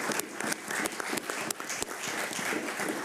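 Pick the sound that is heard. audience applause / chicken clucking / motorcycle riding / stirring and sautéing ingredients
audience applause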